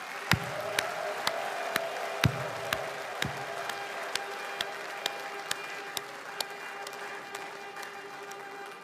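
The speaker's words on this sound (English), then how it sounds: "Biafrans, another hands of applause for Mr." Convention audience applauding, a sustained dense clatter of hands with a few sharper claps standing out, steady and moderately distant.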